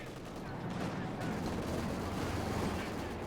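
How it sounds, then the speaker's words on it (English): Machine gun fire in the WWII strategy game Company of Heroes 2, a dense, continuous rattle of bursts blended with distant battle noise, steady and moderately loud, with a commentator's voice faintly underneath. "Machine gun there firing into the British"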